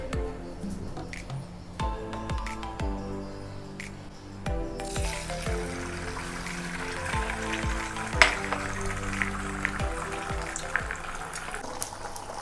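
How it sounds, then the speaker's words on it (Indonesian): Quail eggs fry in a pan with a bright, steady crackling sizzle that swells partway through and continues under background music. "jom kita goreng"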